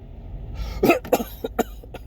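Three or four harsh coughs in quick succession, close and loud, with brief pauses between them and no talking.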